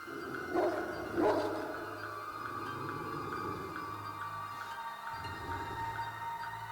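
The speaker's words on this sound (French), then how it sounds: "comme ce sont des animaux, il y a un chien qui t'attaque" A dog sound effect for an attack in a Cthulhu tabletop game: two sharp, close barks early on over a low, steady growling rumble that continues to the end.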